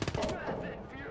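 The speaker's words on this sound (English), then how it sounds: "Oh shit, that thing is firing at me." Rapid gunfire aimed at the player in the WWII strategy game Gates of Hell, set during the Liberation campaign after D-Day; a burst of loud, close shots at the start trails off into rumbling battle noise.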